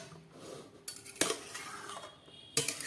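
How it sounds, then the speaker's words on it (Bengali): A metal lid is lifted off a cooking pot of vegetarian jackfruit curry, giving a few sharp clanks and scrapes close up in a quiet kitchen. "ঢাকাটা খুলে দেখাচ্ছি।"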